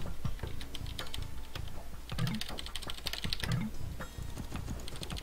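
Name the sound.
typing on a computer keyboard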